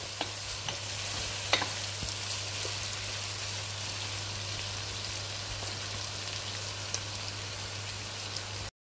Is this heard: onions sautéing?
yes